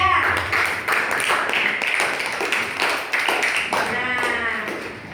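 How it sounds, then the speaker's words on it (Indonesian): Students in an Indonesian primary classroom clap in a rhythmic pattern for a group of classmates, with voices mixed in among the claps. "Tepuk tangan untuk kelompok 3."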